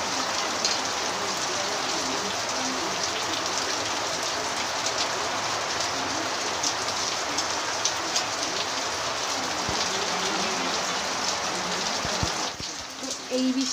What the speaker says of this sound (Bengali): এই বৃষ্টি যেমন তেমন